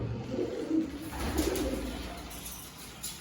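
Pigeons coo in low, soft, throaty murmurs, repeating gently and close by, with no talking.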